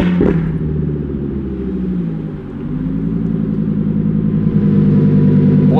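A twin-turbo Audi R8 with over 1000 hp pulling hard, its engine droning loud and close with a deep rumble and rising pitch, a brief dip midway before it climbs again steadily.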